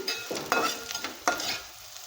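Food frying in ghee in a pan while being stirred, a soft continuous sizzle broken by a few sharp scraping strokes of the spoon, close and fairly quiet.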